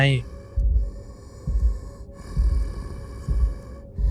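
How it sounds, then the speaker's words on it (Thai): Loud, rhythmic breathing at night from an unknown creature, four heavy breaths repeating about once a second, each a rough gasping or snorting exhale close to the ear, with a low hum in the background. "เสียงหายใจครับ"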